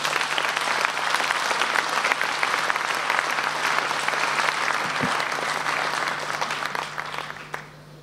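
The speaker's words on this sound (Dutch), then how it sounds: "een heel hartelijk applaus voor Guus Kuijer." An audience gives sustained, dense applause for an author introduced before a reading at a literary event, the clapping full and steady throughout before tapering off at the very end.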